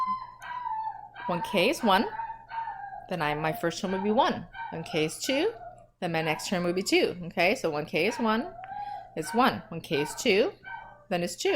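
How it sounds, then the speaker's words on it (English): A dog outside barks, whines and howls repeatedly, wanting to come in, its rising cries carrying clearly beneath a person steadily talking through a math lesson. "That's my dog wanting to come in"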